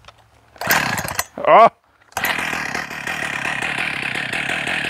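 A Husqvarna 268XP/272XP chainsaw starts with a brief rev, cuts out, then restarts and settles into a loud, steady, slightly uneven idle close by, with a short spoken exclamation early on.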